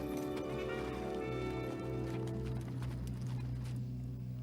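Horses walking through desert terrain, hooves clip-clopping in a steady rhythm with a low background rumble, heard fairly close with no talk.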